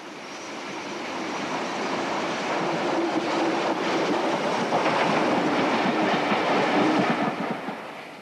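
Steam locomotive 34046 Braunton leaves Twerton Tunnel west of Bath in 1962, a rolling train rumble with clattering wheels that swells as it passes and then eases off.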